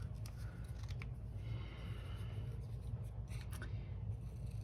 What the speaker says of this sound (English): I just want these claws from this. I'm going to trim it down some more.